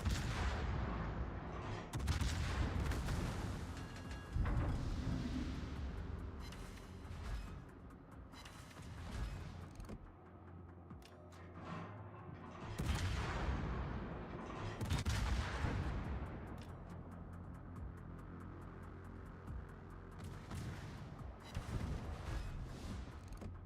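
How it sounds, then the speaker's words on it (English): Ship guns in World of Warships boom repeatedly with incendiary rounds landing, a dense run of loud blasts and rumbling impacts that keeps going without a break. "Oh, incendiary rounds coming in."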